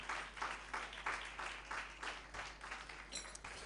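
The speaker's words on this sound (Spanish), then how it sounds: "Dele un aplauso" Congregation applauding during an evangelical sermon on Revelation, a quiet, distant patter of clapping in fairly even pulses, with a faint tonal ring near the end.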